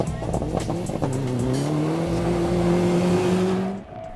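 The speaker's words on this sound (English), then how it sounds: "Returning to rallying, Sami Mahmood with co-driver Karina Herpela in a Mitsubishi Evo 9" A Mitsubishi Evo 9 rally car races along a stage, its loud engine note climbing steadily through the gears for several seconds, tyres scrabbling, before it passes and fades abruptly near the end.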